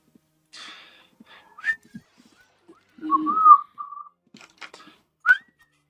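A person whistles a tune in short, clear phrases separated by pauses. The whistling is close and solo, with a few faint breaths and soft clicks between the notes.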